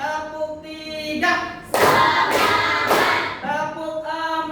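Classroom of pupils clapping in rhythm during a counting clap game, a few sharp, loud group claps in a cluster between stretches of a teacher's voice.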